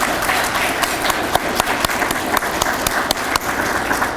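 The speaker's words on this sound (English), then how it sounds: "Let's give him a round of applause." Audience applause for a speaker at a meeting on border patrol, steady dense clapping from a crowd filling the whole stretch with scattered sharper claps.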